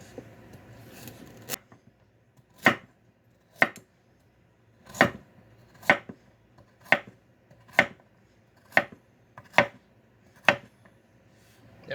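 A knife chops vegetables for caponata on a cutting board, landing about ten crisp, evenly spaced strikes roughly one second apart, close and clear over a quiet room.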